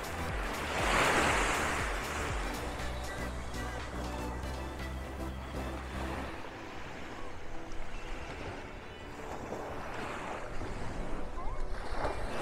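Sea waves washing ashore at Playa Fundadores beach in Playa del Carmen on the Riviera Maya, a steady broad surf wash with soft swells, fairly close, under some background voices and low rumble.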